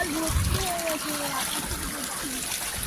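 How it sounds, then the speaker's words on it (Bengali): Strong water flow rushing through an open field channel beside crop fields, a constant broad roar of moving water, with birdsong and a voice speaking over it. "জলের তীব্রতা কিন্তু অনেক বেশি গাইস, যে বহুত আওয়াজ আসছে সাথে"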